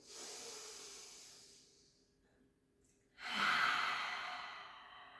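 Two slow, deep breaths during a Pilates rehab exercise for shoulder, upper back and core, each a long airy exhale or inhale heard close and soft, with a quiet pause between them and no talking.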